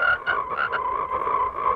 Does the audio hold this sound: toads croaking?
yes